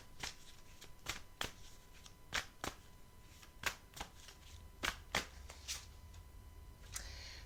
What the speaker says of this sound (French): Je vais prendre une carte du Béline pour compléter.